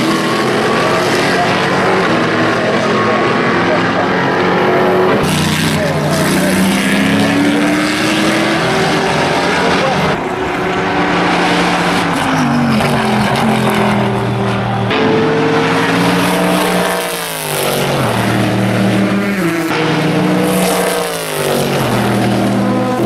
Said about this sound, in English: the roar of the pushrod LS7R engine is basically unmistakable